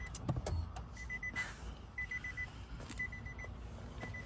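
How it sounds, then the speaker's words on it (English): A 2020 Nissan Altima SR's door-open warning chime beeps in short, evenly spaced tones about once a second, fairly faint over a low background rumble, with a clunk near the start. "Let me close this up so they can stop beeping"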